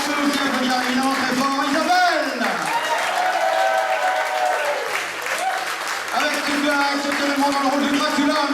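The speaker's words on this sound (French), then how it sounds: "On peut aussi applaudir évidemment très fort Isabelle" Audience applause for an improv actress at a cabaret show, a dense clapping wash mixed with loud, sliding musical tones that swell and dip, giving a lively stage atmosphere.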